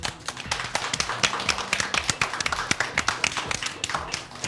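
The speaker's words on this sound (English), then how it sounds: "let's give them a big round of applause" A few people clap for quiz show contestants, sparse distinct hand claps in an irregular rhythm rather than a dense crowd sound.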